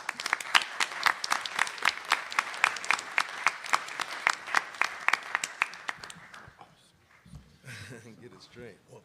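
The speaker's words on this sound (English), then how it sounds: "give yourselves a round of applause" Seminar audience at an education event breaks into applause, a burst of distinct, fairly close claps that gradually thins out and fades, followed by a few quiet voices.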